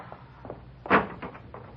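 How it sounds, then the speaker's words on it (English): A street door opens as a radio drama sound effect: a few faint taps and rattles lead to one louder creaking clunk of the door, followed by softer handling noises. "open the street door"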